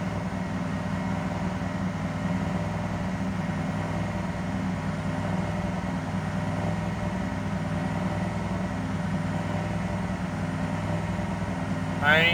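A 2006 Ford 6.0 Powerstroke diesel runs rough with the throttle held slightly open, giving a steady, low, droning hum that stays even throughout, with a brief louder rise at the very end.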